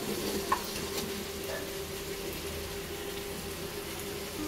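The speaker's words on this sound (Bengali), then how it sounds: "ভালো করে আবারও কষিয়ে নিতে হবে" Taro and prawns frying in a pan while being stirred, a soft steady sizzle with faint scraping, close and continuous with no talk.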